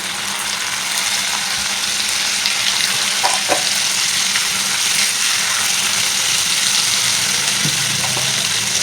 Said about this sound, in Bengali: এবার আমি মাছগুলি হালকা করে পেঁয়াজের সঙ্গে ভেজে নেব।